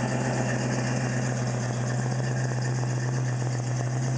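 A supercharged 1991 Ford Mustang LX 5.0 with headers, an off-road H-pipe and a Flowmaster cat-back exhaust idles after a cold start, a steady low drone with a constant hum and supercharger whine, close and alone.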